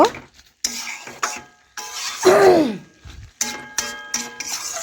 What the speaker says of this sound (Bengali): চিংড়ি মাছ এখন নাড়াচাড়া করে লাউয়ের সাথে ভালোভাবে মিশিয়ে নেব